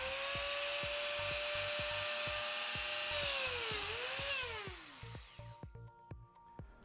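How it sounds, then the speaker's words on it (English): A power saw cuts through a taped graphite golf driver shaft being fitted with an adjustable hosel, giving a loud steady whine whose pitch dips and then sweeps upward as the blade finishes. It ends in quieter, scattered clicks and taps. "we've gone ahead, cut that shaft"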